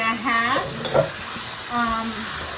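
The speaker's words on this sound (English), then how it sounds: "To that I'm going to add my onions" Chopped onions hit a hot pan for a Puerto Rican smoked herring dish and sizzle loudly, with a spoon or spatula stirring and scraping against the pan in short bursts, close by.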